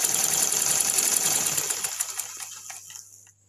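A small sewing machine driven by a dynamo pedal runs at speed, making a fast, steady whirring chatter up close that slows and fades as the pedal is released, with no voices.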